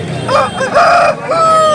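A rooster gives one loud, close crow in two drawn-out parts at a busy Sunday poultry market in Nellore.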